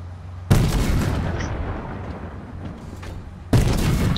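Gunfire in a Fortnite match: two abrupt, loud shot bursts several seconds apart, each followed by a lingering noisy tail.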